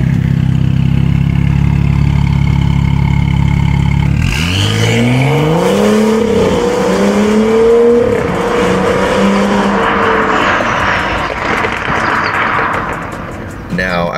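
BMW F80 M3 engine and exhaust, a low steady idle that jumps into rising revs and a raspy, buzzy tone at higher RPM, loud and close, with talking over it.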